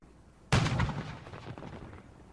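A single loud boom of ceremonial cannon fire at a military installation's renaming ceremony, a sharp blast at about half a second followed by a long rolling echo that slowly fades into outdoor ambience.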